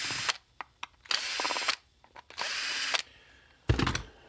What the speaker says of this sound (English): So then you pull the screws out of it.